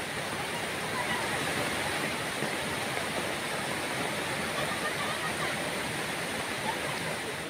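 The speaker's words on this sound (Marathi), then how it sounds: "विद्यार्थ्यांच्या शाळेत जाण्याच्या वाटेत निगडीचा ओढा आहे." A monsoon-swollen stream on a village school route in the Ratnagiri area rushes in a dense, continuous roar of water, loud and steady throughout with no break.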